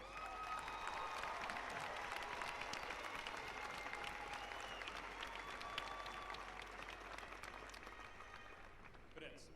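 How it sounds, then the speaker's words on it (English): Sustained applause from a large audience at a university commencement ceremony, steady dense clapping across the whole stretch that eases slightly toward the end, with faint voices underneath. "Please join me in a round of applause for these leaders."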